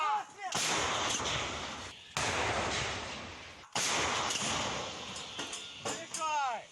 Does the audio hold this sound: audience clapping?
no